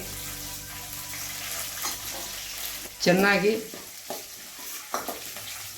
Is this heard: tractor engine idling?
no